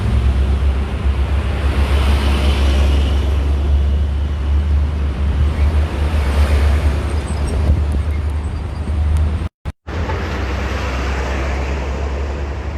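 Road traffic on a toll road at kilometer 47 near the West Karawang industrial area, a steady loud roar of passing vehicles with surf-like wind rush, continuous throughout apart from a brief dropout near the end.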